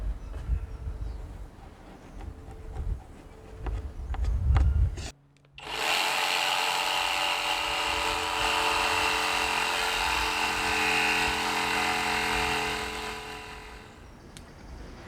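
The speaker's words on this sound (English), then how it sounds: "and then cut it out with a jigsaw." Jigsaw cutting through an old timber board starts abruptly after a short pause, then runs as a loud, steady, buzzing drone for about ten seconds, preceded by low rumbling handling noise.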